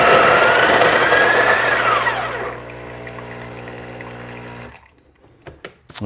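A Breville Barista Pro espresso machine runs hot water with a steady hiss and pump hum that fades after a few seconds, followed by quiet clicks.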